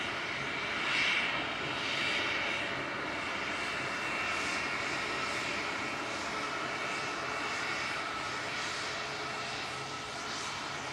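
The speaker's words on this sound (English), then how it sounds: "EasyJet just arriving there." An EasyJet airliner arrives at Manchester Airport, its jet engines a steady, moderately loud roar with a soft whine on top, rising slightly near the start and then holding even.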